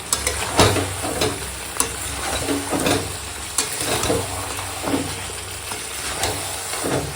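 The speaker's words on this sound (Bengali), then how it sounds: "দেখো আলুটা দিয়ে এখন কষানো হচ্ছে" Chicken with yogurt and fried potatoes sautéing in a pan, a continuous close sizzle broken by repeated scraping and knocking of a spoon stirring, moisture hissing as the mixture cooks.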